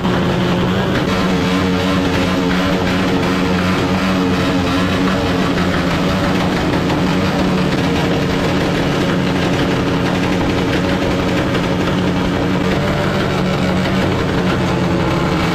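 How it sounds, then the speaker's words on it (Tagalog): Several motorcycle engines rev and roar together at a motorcycle show, a loud, dense, continuous mix of throbbing engine noise with no clear break throughout. "Ayan at nagsisimula na nga pala magbombahan yung mga nag-entry mga sir."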